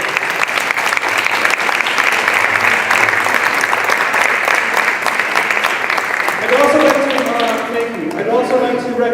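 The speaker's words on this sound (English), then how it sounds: "let's give them a nice round of applause" A nice round of applause for students at a Roberto Clemente commemoration, with a crowd clapping loudly and steadily before it thins out and a voice starts speaking near the end.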